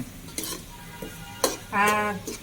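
Green garlic being stirred into Kathiyawadi-style tuvar totha in a pan, with a few scraping strokes of the spoon against the metal and a short burst of soft sizzling, close by with no talk.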